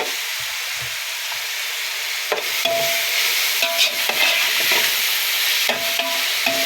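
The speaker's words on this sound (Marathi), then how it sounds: "आता हे तळून घ्यायचं आहे छान असं आपल्याला लाल करून" Chicken biryani ingredients frying and being stirred in a pot, a steady sizzle with scraping stir strokes and clinks growing busier partway through, close and alone without talk.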